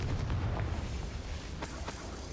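A Confringo spell explosion in Hogwarts Legacy bursts out as a heavy low boom, followed by a couple of brief crackling pops as it fades, with no one speaking.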